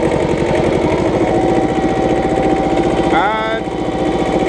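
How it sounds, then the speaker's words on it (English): Kubota B7000 tractor engine labouring under hydraulic pump load while lifting a 300 kg weight: a loud, continuous diesel drone, with a rising mechanical whine near the end as the load shifts. "As you guys hear, engine are throttling because of hydraulic pump working."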